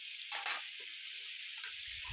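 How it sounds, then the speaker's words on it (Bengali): Chicken curry with turmeric sizzles in a pan as it is stirred, with a steady frying hiss and a couple of brief scraping spoon strokes, close and without talk. "এরপর আমি নাড়াচাড়া করতে থাকছি। নাড়াচাড়া করে নিয়ে ভালোভাবে হলুদটা এর মধ্যে মিশিয়ে নেব।"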